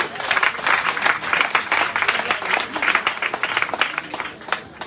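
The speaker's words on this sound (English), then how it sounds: "If you're happy, you'll clap your hand." A church congregation at a Baptist conference claps, dense close applause with crisp individual hand claps standing out, sustained throughout with crowd murmur underneath.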